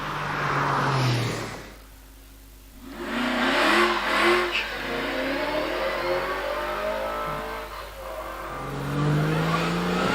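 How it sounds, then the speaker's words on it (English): Re-engined Porsche 911 race car climbing the Prescott hillclimb course, engine note rising and falling as it rounds bends, loud and close with revving, lifts between corners, and a brief fade mid-pass. "The 911 rounds Pardon and on up to the S's."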